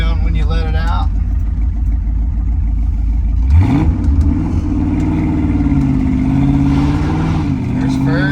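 A 1965 Ford Mustang Fastback with a 289 V8 A-code engine and a four-speed manual revs hard through first and into second, a loud continuous roar that drops at the shift and climbs again.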